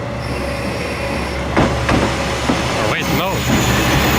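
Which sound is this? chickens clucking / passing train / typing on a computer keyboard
passing train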